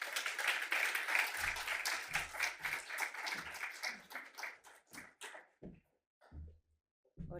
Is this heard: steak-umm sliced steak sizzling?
no